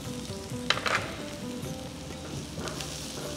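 Garlic, ginger and onion fry in a couple of spoons of oil for cabbage manchurian, giving a soft continuous sizzle close by with a few brief stirring clinks, quiet overall and without talking.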